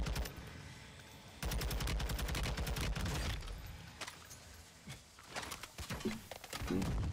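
Rapid semi-automatic sniper rifle fire in the online shooter Warzone, a dense burst of sharp close shots followed by scattered quieter cracks and game noise.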